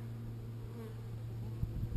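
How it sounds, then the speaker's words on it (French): A honeybee colony guards its hive entrance, with an Asian hornet lurking nearby. The soft, continuous insect buzzing hums steadily throughout, with a few faint bumps near the end. "il y a une partie de la colonie qui se met quand même à l'extérieur pour protéger l'entrée"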